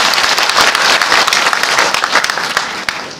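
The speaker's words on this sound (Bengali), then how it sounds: "সবার জন্য আপনার জোরে একটা হাততালি দিতে হবে" A hall full of attendees at an election officials' conference breaks into loud, continuous applause, many hands clapping closely together without pause.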